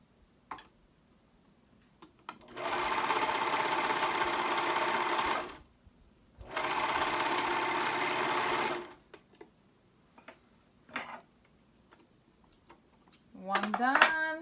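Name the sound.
serger overlocking a hoodie shoulder seam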